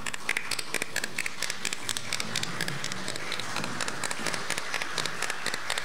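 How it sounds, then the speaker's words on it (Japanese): A press conference audience applauds two football-player siblings arriving as guests, with dense, even clapping that stays fairly quiet and steady throughout, with no talking. "大きな拍手でお迎えください。"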